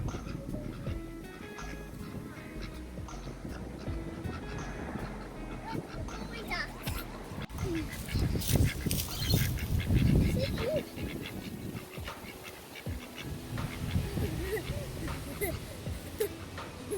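Ducks and geese quack and honk outdoors on a windy day, with grass and wind around. The calls are scattered and fairly faint, louder in the second half, and often sit under a person talking.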